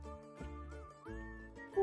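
A voice imitates R2-D2, letting out a wavering, rising series of electronic-style whistles and warbles, faint and close, ending with a short bright chirp.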